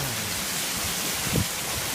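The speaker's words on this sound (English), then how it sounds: "it's never rained like this before" Heavy rainstorm in Southern California, wind-driven, a steady dense broadband roar of rain with a brief louder gust or splash near the end and no talking.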